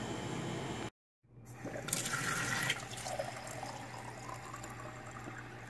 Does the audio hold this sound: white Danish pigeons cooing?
no